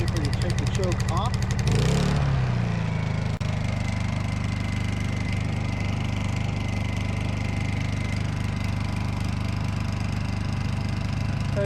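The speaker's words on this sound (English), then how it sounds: "when this thing is just sitting here idling, it's very quiet for a generator" A Honda EU2000i portable inverter generator starts up, revs briefly, then settles into a steady, even, quiet idle hum that continues at a constant level.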